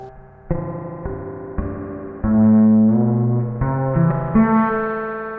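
An electric bass played through a Ghost reverb pedal, with a short pre-delay, plays a run of sustained, plucked notes that ring into one another with a soft wash of reverb. No voices.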